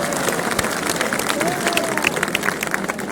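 A crowd at a rally in Chhatrapati Sambhajinagar breaks into dense, steady applause, many hands clapping together for a few seconds with a faint voice briefly rising over it.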